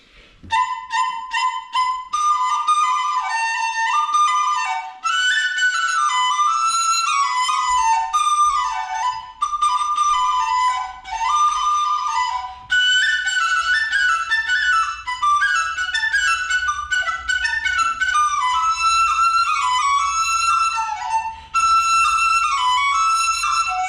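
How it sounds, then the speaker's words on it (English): Bright, breathy Chinese bamboo flute melody with quick ornamented phrases and short pauses, played solo and close, high and clear throughout. "the next is a Chinese flute"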